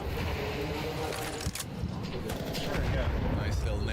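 A grenade bursts during a Counter-Strike 2 match at the Shanghai Major, with heavy booming blasts and gunfire-like cracks packed densely through the clip. Excited caster commentary runs underneath.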